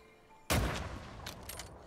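A rifle fires once in The Red Lantern video game: a single sudden, loud blast that rings out into a decaying, echoing tail.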